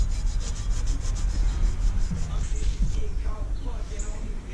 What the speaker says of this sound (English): I'm gonna try like the softer Brillo pad on the bottom and see how bad it scratches it